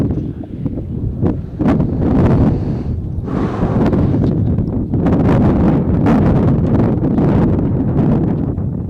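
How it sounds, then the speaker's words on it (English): Heavy wind gusts buffet the microphone at an outdoor high school JV football game, producing loud, rumbling roars and flutters that swell and fade unevenly, with no clear voices. "Wind picking up heavy, as you guys may hear."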